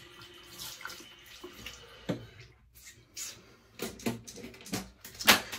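Water from a tap splashes in short, uneven bursts for a cold face rinse, close by with small rustles between the louder splashes.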